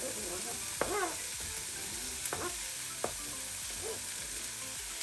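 Red and green peppers sizzling in a pot over steady frying noise, with occasional scraping and clinking of a utensil stirring them, close by; a voice speaks briefly.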